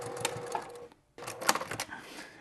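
Sewing machine stitching quilt fabric wedges for a compass-pattern quilt, a rapid close mechanical whir of the needle that stops briefly for a moment of near silence, then resumes with clicking bursts.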